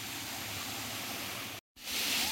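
Steady broadband roar of falling water at Khoiyachhora waterfall in Mirsarai, Sitakunda, continuous and fairly close, broken by a brief dropout before resuming a little brighter.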